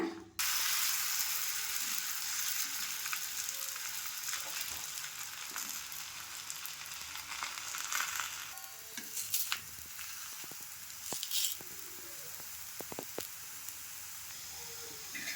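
Fresh green chickpea roti cooking on a pan, giving a steady soft sizzling hiss throughout with a few faint clicks and scrapes toward the end, fairly quiet and without speech.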